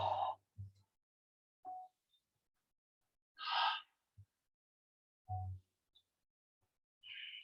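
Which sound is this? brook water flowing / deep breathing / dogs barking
deep breathing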